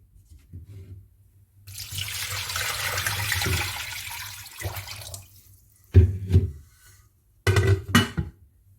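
Water poured into a pot holding chicken pieces for haleem, a sustained splashing stream for several seconds followed by two shorter bursts of pouring, close and fairly loud with no talk.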